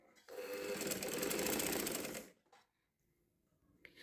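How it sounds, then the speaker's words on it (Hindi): A sewing machine stitches a sleeve seam in one quick, fairly quiet run of about two seconds, then stops, with faint handling sounds afterward. "अपनी सिलाई लगाएंगे और इसको कंप्लीट करेंगे।"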